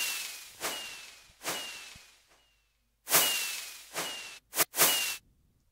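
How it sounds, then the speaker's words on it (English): Crackling, whip-like Minecraft fireworks bursts with automated delay, in an FL Studio type beat for Ian and 2hollis. The bursts come in uneven repeats, some echoing off, and a quick double burst falls near the end. "The Minecraft fireworks sound is just like a sound 2hollis uses in his beats."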